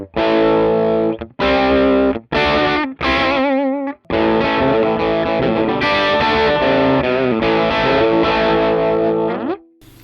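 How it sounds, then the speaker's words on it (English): An electric guitar plays through an amplifier with no pedal engaged, giving a lightly driven, not quite clean tone: loud strummed chords with short gaps, then a long sustained passage ringing out. "this is what the amplifier sounds like without the pedal"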